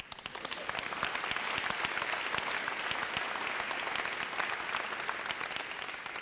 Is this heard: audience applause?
yes